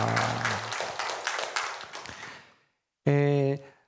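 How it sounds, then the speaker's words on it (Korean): Congregation applauding during a Korean church service, a burst of dense clapping with organ or keyboard chords under it, fading out before a short loud sustained chord. "하나님께 영광의 박수 올려드리겠습니다"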